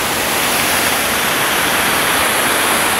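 A waterfall at Wentworth Falls in the Blue Mountains, a loud, unbroken broadband rush of falling water with no pauses or talking.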